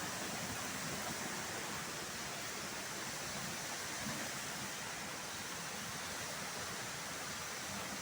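A hidden waterfall in the Itatinga region of Brazil roars as a steady, broad wash of falling water, constant and unbroken throughout with no voices.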